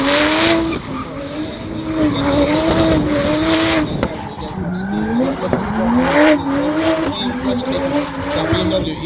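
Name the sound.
BMW E46 drift car tyres squealing on track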